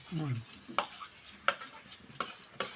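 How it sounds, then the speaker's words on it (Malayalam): Ripe nendran banana fries in ghee over a low flame, a faint soft sizzle broken by a few sharp clinks and scrapes of stirring against the pan. "ഒന്ന് നേന്ത്രപ്പഴം നമുക്ക് ചൂടാക്കിയെടുക്കാം ചൂടാക്കിയിട്ടല്ല നെയ്യിൽ പൊരിച്ചെടുക്കാം"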